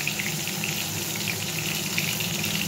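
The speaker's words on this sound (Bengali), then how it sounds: "খুব কম তেলে এই ভাজাটা হবে" Eggplant slices frying in a little oil in a pan, a steady close sizzle with a bright crackle that continues evenly throughout, with no voices.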